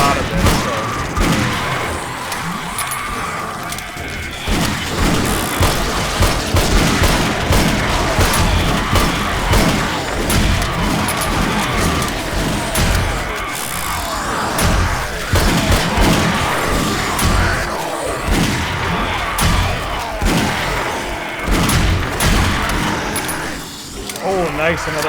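Gunfire in 7 Days to Die during a horde night: repeated sharp shots and booming hits scattered through a busy, loud scene, with someone talking almost continuously over them.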